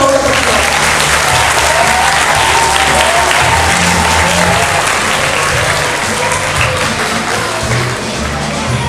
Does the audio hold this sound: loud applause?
yes